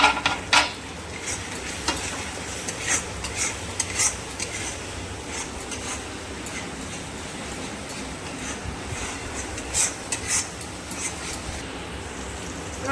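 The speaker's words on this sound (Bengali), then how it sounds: "মশলাগুলো ভাজা হয়ে যাবে।" Ground spices (dry chilli powder, turmeric and home-ground coriander-cumin) fry in hot oil in a pan while being stirred, giving a steady close sizzle broken by scraping strokes of the spoon throughout.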